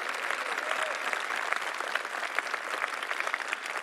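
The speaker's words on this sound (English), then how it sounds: "can we give her a round of applause for this great work that she's doing?" An audience applauds in a room, a steady patter of many hands clapping that continues evenly at moderate loudness, with individual claps popping out here and there.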